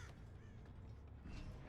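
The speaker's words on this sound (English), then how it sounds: "You hear those birds?" Crows cawing in the Dead by Daylight video game, faint harsh calls set into a dense, steady ambient game soundscape with a low rumble, no talking.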